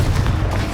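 Fire-blast spell exploding in the video game Hogwarts Legacy, a loud, dense booming burst that rumbles continuously through a brief moment with no clear gaps.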